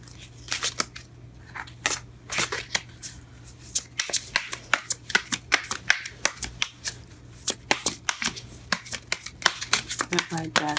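Tarot cards are shuffled and spill out in a dense run of crisp riffling snaps and papery crackles, close and steady, with a soft voice faintly underneath.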